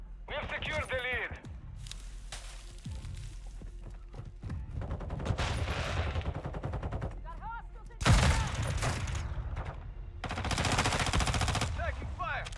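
Bursts of automatic gunfire and rapid shots from Call of Duty Modern Warfare 2 (2022) multiplayer, loud and dense, coming in several heavy volleys under in-game radio voice callouts.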